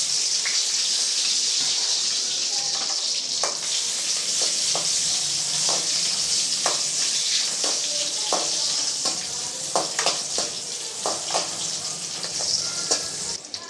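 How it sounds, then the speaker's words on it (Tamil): Onions frying in oil for a potato side dish, a continuous bright sizzle with occasional stirring clicks and scrapes, close and steady. "இப்போ அதே எண்ணெயிலேயே நம்ம வெங்காயத்தையும் வதக்கிடலாம்."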